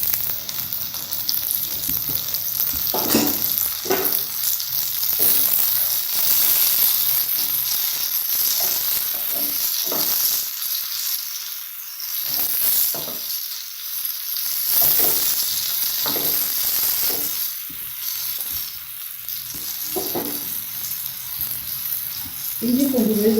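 Tomatoes fry in a pan while macaroni is being prepared, giving a loud, continuous sizzle with occasional stirring scrapes throughout.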